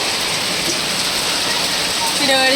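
Heavy rain pours steadily and loudly, a dense continuous hiss filling the whole clip.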